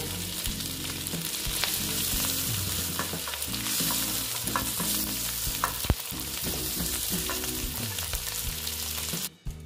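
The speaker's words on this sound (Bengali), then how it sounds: "এটা প্রায় ভাজা হয়ে গেছে। এবার আমি আলুগুলো তুলে নেব।" Potatoes frying in oil for aloo dum, a steady bubbling sizzle throughout with background tones and clinks of stirring, cutting off abruptly at the end.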